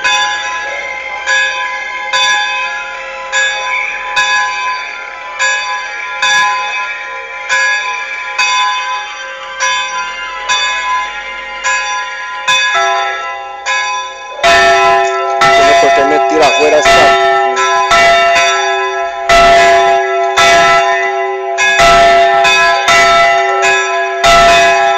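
A church bell rings loudly and close, struck repeatedly in an irregular rhythm with long ringing overtones, growing denser and more clangorous in the second half as more strikes overlap.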